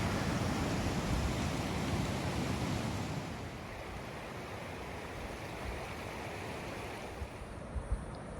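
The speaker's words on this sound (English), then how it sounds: "Gorgeous Rock Creek's flowing good." Rock Creek flowing in a mountain meadow area, a steady broadband rush of water that is loudest at first and then settles to a slightly softer continuous wash with a few small splashes near the end.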